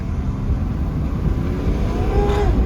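A 2005 Mercedes-Benz E320 CDI diesel accelerating away, its steady low engine rumble holding loud and continuous with a faint rising whine near the end.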